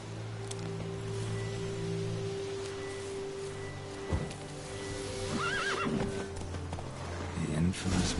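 Geralt's horse Roach in The Witcher 3, a brief whinny and snorting over hoof movement and ambient outdoor game sound, with someone talking nearby.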